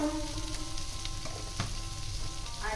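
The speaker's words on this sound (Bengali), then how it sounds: "এবার আমি কুমড়োটাকে ভালো করে একটু লাল লাল করে ফ্রাই করে নেবো" Pumpkin pieces frying in a pan with turmeric and salt, a steady crackling sizzle with occasional spatula scrapes and taps, heard up close without any speech.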